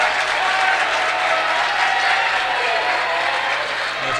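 A Jefferson home crowd roars and claps at a high school basketball game against Spring Mills during a defensive possession, a loud, steady wall of cheering and applause sustained throughout.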